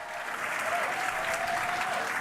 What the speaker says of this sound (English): I don't know what they're cheering for